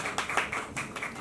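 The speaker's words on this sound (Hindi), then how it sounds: "तालियां" A handful of claps ring out in an uneven burst, a small group applauding briefly and fairly quietly for a winner at a Mrs. India beauty pageant event.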